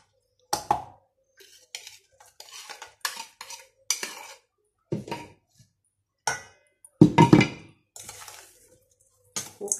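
Pomelo salad being tossed in a bowl with a utensil, a series of clinks, scrapes and wet stirring strokes in short irregular bursts, close and clear with quiet pauses between.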